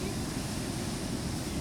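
Rough, high surf at a beach in Casablanca roars as a steady, dense wash of broadband noise, with no clear breaks between waves.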